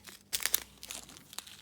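Tweezers tear open a small plastic bag of diamond painting drills, producing a brief close crinkle and crunch, with a short burst of rustling followed by a softer crackle.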